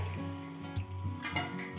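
Gentle sizzle of edible gum frying in ghee with a low hum, punctuated by a few light scraping and stirring clinks of a spoon in the pan.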